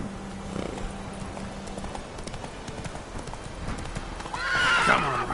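Roach the horse gallops in the video game Witcher 3, with quick, rhythmic hoofbeats throughout and a loud whinny near the end.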